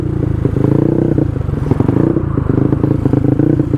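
Yamaha Mio scooter tuned to 200cc and 25 HP on a test ride, its engine droning loud and close with a steady low throbbing hum, slight rises in pitch and some rattling clatter.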